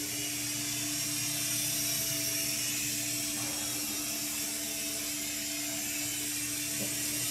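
A Syma Speed S5 remote-control helicopter hovers with a steady, high-pitched electric motor whine and rotor hum, constant and unbroken, with no voices.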